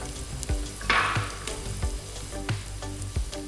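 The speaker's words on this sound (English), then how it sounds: "Give it a little quick stir fry." Garlic and mild chilies stir-fry quickly in oil in a pan, a bright close sizzle broken by repeated scraping and tapping of a utensil against the pan at a loose, regular rhythm.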